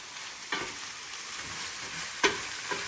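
Vegetables get stirred into salmon frying in a pot with a plastic utensil, a close, constant hiss broken by a few crisp clacks of the spoon and no talking.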